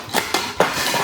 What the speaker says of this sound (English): that is the sound of PSA slabs hitting the floor and hitting the floor